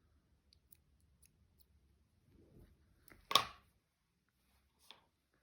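Scissors cutting a loose piece of yarn while making a shawl, one crisp close snip after some faint handling rustle, followed by a softer click, in an otherwise quiet room.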